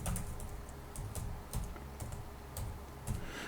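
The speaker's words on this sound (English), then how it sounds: "Notice I'm typing every letter or word in what's called camel case." Someone types on a computer keyboard while working in an Excel spreadsheet, an irregular run of soft key taps and clacks at close range with no talking.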